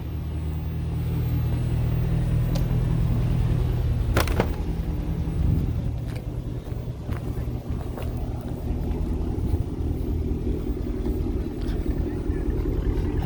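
A 2013 Cadillac CTS-V's 6.2-liter supercharged V8 idles with a steady low rumble that shifts in pitch midway, accompanied by wind noise and a few faint clicks, with no talking.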